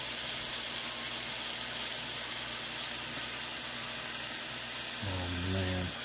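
Morel mushrooms sizzle steadily in a pan, a continuous hissing fry that stays even throughout, with a low hum rising briefly near the end.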